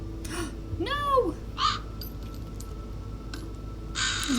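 A crow caws in the Nancy Drew game The Haunting at Castle Malloy, a few harsh calls in the first seconds at moderate distance, followed by faint clinks and a soft voice.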